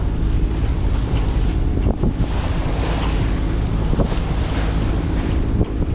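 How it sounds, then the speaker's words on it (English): A sailboat sails from San Diego to San Pedro through wind-driven chop. Steady wash of waves and water rush mixes with loud, buffeting wind on the microphone, with a few sharper splashes breaking through. "You can start to see the influence of a little bit of chop."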